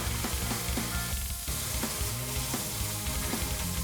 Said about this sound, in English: Add your fillets to the pan, and then you can reduce the heat to medium-high. Sear the fillets for 2 to 3 minutes.